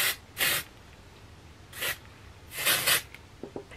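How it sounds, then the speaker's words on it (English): Rebe texturizing hair spray sprayed in several short aerosol bursts, four hissing puffs of varying length, close and fairly quiet with no talking. "I might put some texturizing spray in it."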